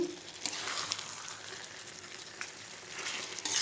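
Chicken curry with masala frying in a pan at home, a soft steady sizzle with faint crackles throughout and no talk.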